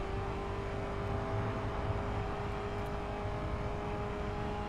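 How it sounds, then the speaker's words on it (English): Muffled car engine heard from the cockpit view in the racing video game The Crew, a steady low drone with a faint whir, continuous and even throughout with no talk. "How come the engine becomes more muffled when you go into first person?"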